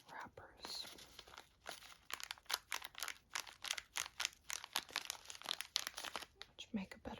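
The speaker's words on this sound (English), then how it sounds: "These are paper wrappers." Paper tea bag wrappers crinkle in a series of quick, close, crisp rustles, with a run of rapid crackles and small pauses between them.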